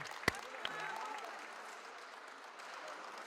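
Faint, steady applause from a crowd greeting a woman as she appears at court, with a couple of sharp clicks near the start and the clapping spread evenly in the background.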